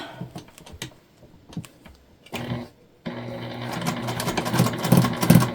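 A sewing machine with a walking foot stitches in quick rattling bursts, starting with scattered taps and then running steadily and loudly to the end.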